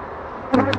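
Honeybees of partly native stock buzzing around an open hive during a September inspection, a close steady drone with a couple of louder passes near the end.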